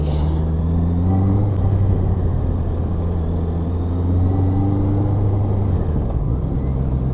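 Steady, close engine rumble and road noise of traffic in a busy city, recorded while riding a Honda CB650R motorcycle on a Monday commute, with a low hum running continuously throughout.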